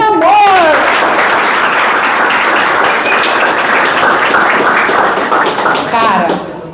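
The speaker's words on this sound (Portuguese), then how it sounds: "vocês vão dar palmas depois que eu falar" A class of students bursting into loud, sustained applause close by, with energetic clapping throughout and a voice speaking at the start and end.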